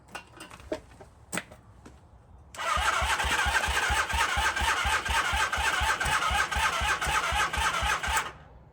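A 1978 Honda CB400A Hondamatic motorcycle with its carburetors just refitted cranks after a few clicks and knocks, then fires and settles into a loud, close, rhythmic idle that runs for several seconds before cutting off.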